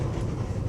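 Steady low rumble of a train running on rails, heard from inside the carriage, a continuous close drone with no voices.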